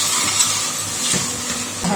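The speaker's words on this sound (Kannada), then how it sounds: "ಈ ಅಕ್ಕಿನ ಇದಕ್ಕೆ ಹಾಕ್ಬಿಟ್ಟು 1-2 ನಿಮಿಷಗಳ ತನಕ ಚೆನ್ನಾಗಿ ಫ್ರೈ ಮಾಡ್ಕೊಳ್ಳೋಣ" Washed rice tipped into a hot pan for Mexican rice and fried, giving a soft steady hiss and sizzle with faint scraping, close and moderately loud throughout.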